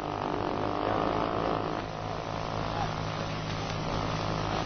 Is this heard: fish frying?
no